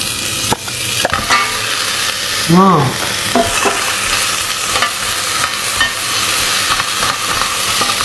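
Lamb pieces sizzle loudly in a pan with garlic and onion, stirred now and then with scraping clatters over a constant frying hiss, close and intense.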